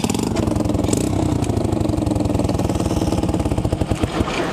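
Honda Z50J Gorilla minibike engine running right after a kickstart, with a non-original carburetor, cylinder head and a loosely wired exhaust; a close, rapid, steady putter that ticks on evenly for the whole stretch.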